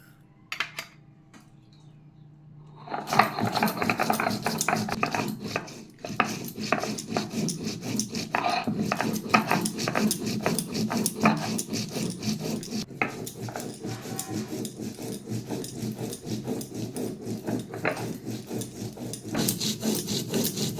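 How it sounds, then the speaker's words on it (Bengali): Cumin seeds ground on a grinding stone while cooking chicken in a clay pot, with a continuous rough scraping and rubbing that starts after a quiet moment and carries on steadily, close and moderately loud. "দেখো জিরা বেটে নিচ্ছি সামান্য"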